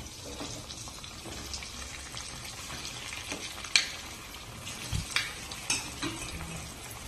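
Kothimbir vadi pieces frying in oil give a continuous close sizzle, broken by a few sharp clinks and scrapes of a utensil against the pan.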